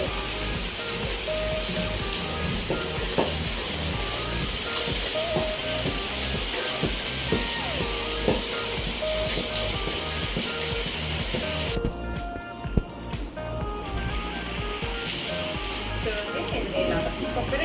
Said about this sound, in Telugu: వర్షం చూసారా ఎలా పడుతుందో